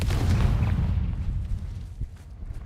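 A heavy booming blast from the Confringo fire spell in Hogwarts Legacy, loud at first and rumbling away into a fading low tail, with no one talking.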